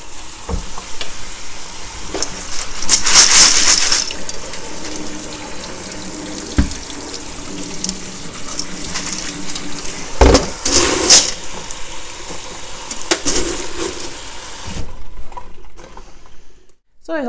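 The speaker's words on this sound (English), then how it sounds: "is to also run them through a colander like this. Give them a good rinse" Clay pebbles for hydroponics being rinsed in a colander under running tap water, a steady splashing and rattling rush that swells in bursts and cuts off near the end.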